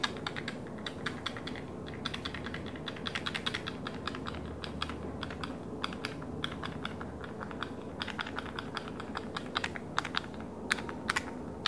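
Tiny plastic dominoes shaken inside their small plastic box produce rapid, close, crisp clicks and rattles in irregular bursts, continuing throughout with no talking.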